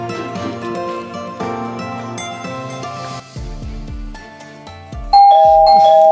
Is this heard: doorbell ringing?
yes